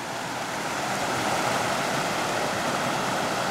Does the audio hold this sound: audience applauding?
no